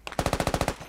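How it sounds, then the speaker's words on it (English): An M2 heavy machine gun in the military shooter Squad fires a rapid, loud burst of about eight close, evenly spaced shots, with no voices over it. "Yo, M2, keep up the fucking fire while we're not able to."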